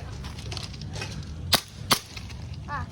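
Two sharp, loud cracks about a third of a second apart from a Hicapa Trex gas blowback airsoft pistol, fired during an indoor CQB kids' game, over a steady background hum.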